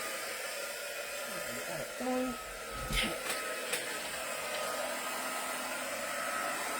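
A heat embossing tool blows with a steady, hissing whoosh throughout, and a voice briefly speaks partway through.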